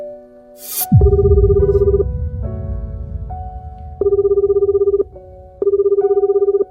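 Phone dialing tones followed by repeated electronic ringback beeps, loud and close, with a brief rumble near the start and no voices.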